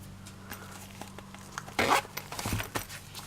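A single brisk zipper pull rasps loudly near the middle, followed by a few shorter zipping and rustling sounds close by.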